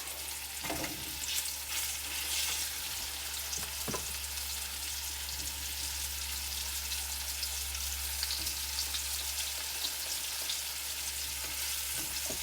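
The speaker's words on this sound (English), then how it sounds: "We just add some flour to it so we can get them browned up." Floured turkey drumsticks browning in a hot pan, a steady bright sizzle and crackle of frying held throughout, with a few sharper pops and stirring scrapes along the way and no talking.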